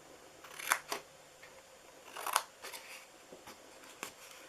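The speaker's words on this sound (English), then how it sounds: "I'm just going to cut into those all to that first score mark." Scissors or a blade snipping through a paper cookie box up to a score mark, a few soft, short cuts in a quiet room, with two brief bursts of crisp crunching.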